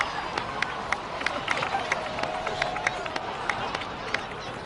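A crowd applauds in a Genshin Impact video game cutscene, with distinct individual claps popping out at a fairly regular pace over a softer background murmur at moderate volume.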